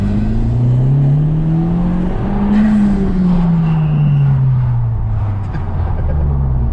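A car accelerates hard in its normal driving mode, heard from inside: a loud, smooth engine note rises and falls in pitch with a whirring tone over about seven seconds.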